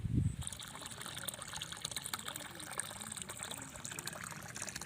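Tap water pours steadily into an earthen fish pond dug for raising catfish, a soft continuous trickle and splash, faint and even throughout, with no talking.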